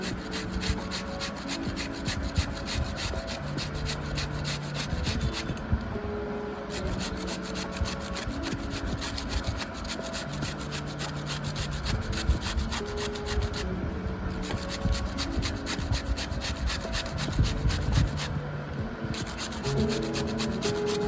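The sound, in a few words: grating peeled cucumber by hand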